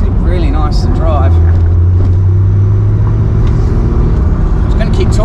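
A car fitted with new KW suspension drives along with a loud, steady engine drone and road rumble inside the cabin, while someone talks over it briefly near the start.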